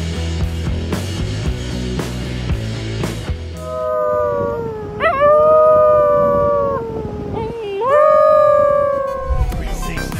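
Wolf-dog hybrid pups howling in long rising and wavering cries, two drawn-out howls following a stretch of rhythmic music, loud and close.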